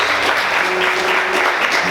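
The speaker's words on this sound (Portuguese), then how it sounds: "Vamos aplaudir o nome de Jesus nessa noite." Brief, loud applause from a church congregation at an evening service, thick continuous clapping close by with no voices over it.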